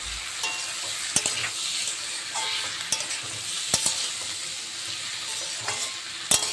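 Tomato fried with Kashmiri chilli powder, turmeric and green chilli sizzles steadily in a pan while a spoon scrapes and taps the pan every second or so, close and clear, with no voices.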